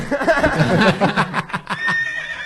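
Loud horse neigh sound effect, a shrill whinny that rises and wavers for about two seconds before tapering off, heard alone up close.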